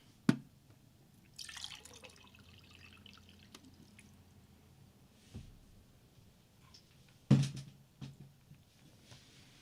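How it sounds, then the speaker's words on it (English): Water is poured into a glass indoors: a faint, quiet trickle with a few sharp drips and clinks scattered through an otherwise near-silent stretch, with no voices. "I'm gonna take this time to pour myself some water."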